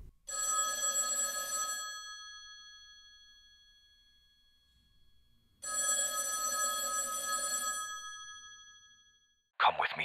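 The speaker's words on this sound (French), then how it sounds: "ils reçoivent un coup de téléphone." A telephone bell rings twice, each bright metallic trill lasting about two seconds with silence between, followed by a short, different sound at the very end.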